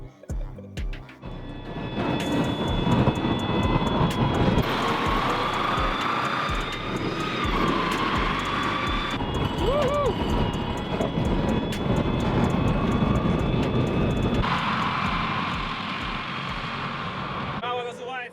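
An M1A1 Abrams tank drives forward and accelerates, its loud turbine engine whining and roaring steadily up close for the whole stretch, with tonal shifts as it picks up speed.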